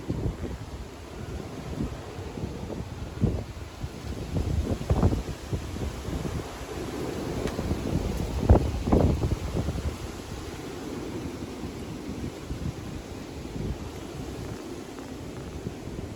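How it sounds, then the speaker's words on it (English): Strong gusty wind blows outdoors on a warm day with a light rain shower, a steady rushing roar with louder buffeting gusts near the middle and no talking. "It is so windy out."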